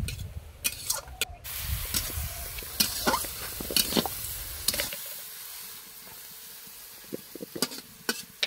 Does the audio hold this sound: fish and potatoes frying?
yes